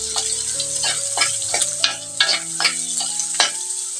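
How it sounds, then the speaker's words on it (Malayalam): Chopped small onions fried in a pan and stirred until golden brown: a steady sizzle beneath a run of sharp spoon scrapes and taps against the pan, about eight strokes in a fairly even rhythm, close and alone. "ഈ ഉള്ളിയെല്ലാം ഒരു ഗോൾഡൻ ബ്രൗൺ നിറാവുന്നത് വരെ ഒന്ന് ഇളക്കി കൊടുക്കണം"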